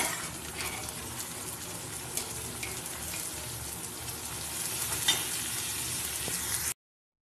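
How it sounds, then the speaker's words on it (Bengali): Peas and potatoes fry with onions in a pan for ghugni, a steady broad sizzle with faint scraping, continuous and even until it cuts off near the end. "মটর আর আলুগুলো এর মধ্যে দিয়ে দিই, তাহলে একসাথে ভাজা ভাজাটা হয়ে যাবে।"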